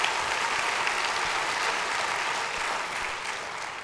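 An audience at a public lecture on climate and democracy bursts into warm applause, a thick continuous clapping that stays loud and even before tapering a little near the end.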